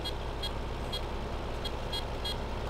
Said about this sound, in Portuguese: Eu estou buzinando em vez de abrir o mapa aqui.